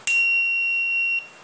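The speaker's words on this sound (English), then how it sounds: "Five five five timer buzzer circuit" A 555 timer buzzer circuit sounds a single steady, piercing electronic tone that lasts about a second and then cuts off sharply, alone and close.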